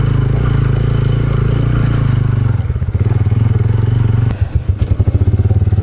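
A motorcycle engine rumbles steadily while riding a rough off-road forest track on a Skardu tour, with the bike jolting and clattering over bumps, rhythmic thuds growing stronger near the end; no talking.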